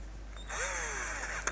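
A Dedra 18V Li-Ion cordless drill, model DED7883-Li, spins up and runs with a steady high whine and a slight rise in pitch, close by and loud, ending in a short click.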